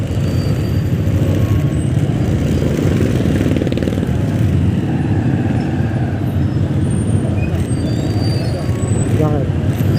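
Dense roadway traffic with motorcycles and buses idling and pulling away around a Honda Click 125 scooter in hot weather, a steady loud engine rumble throughout with a brief brake hiss near the end and voices talking over it.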